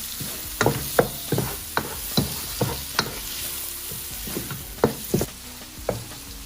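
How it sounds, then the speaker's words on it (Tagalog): Onion, garlic and tomato being stirred in a hot pan for seafood pasta, a spoon scraping and tapping in an irregular series of sharp knocks over a soft steady sizzle. "until fragrance extracted from our onion and garlic, and then our tomato. Just keep stirring."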